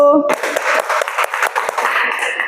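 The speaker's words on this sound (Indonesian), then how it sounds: "Tepuk tangan buat kelompok 1." A classroom of students claps for group 1, a brief burst of hand claps following a voice at the start, with faint talk underneath.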